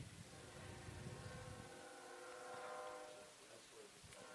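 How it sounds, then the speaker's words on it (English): A very long freight train rolls past railway tracks beside a baseball field in left field, its horn sounding as sustained tones from mid-distance over a steady rumble, with no talk. "there's a very long freight train that's going by, if you can hear the horn"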